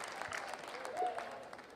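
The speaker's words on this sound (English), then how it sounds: "There was supposed to be like uproarious applause there." Applause from an audience at a late-night comedy show, a steady crowded patter of clapping lasting the whole moment, moderately loud and unbroken, with no speech over it.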